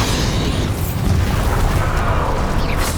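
A Bombarda spell blast from the video game Hogwarts Legacy, a loud, sustained rumbling boom with dense low-end roar and crackling debris filling about three seconds without pause.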